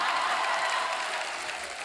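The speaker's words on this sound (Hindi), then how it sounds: "तालियां बजाना" Studio audience applause on a comedy talk show, a steady wash of many hands clapping at even volume throughout, with no voices on top.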